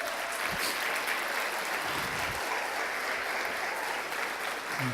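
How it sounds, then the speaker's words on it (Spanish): A church congregation breaks into loud, sustained applause that fills the room evenly with dense clapping, with no voices standing out. "Demos al Señor un aplauso por ello."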